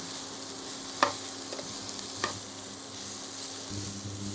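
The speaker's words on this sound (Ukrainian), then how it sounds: "Подивіться, яке ніжне м'ясо цього грибочка на сковорідці" Puffball mushrooms sizzling steadily in a frying pan, with a few sharp clicks of a utensil stirring; no voices.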